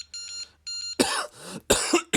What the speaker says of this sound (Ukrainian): Кашель з'явився.